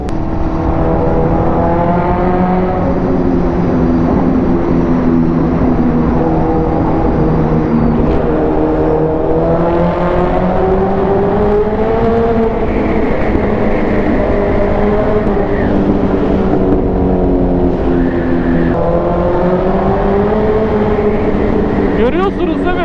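A powerful 1000cc motorcycle engine revs hard and steadily up and down close by, its loud droning rising and falling with exhaust crackles and pops throughout, over excited talk.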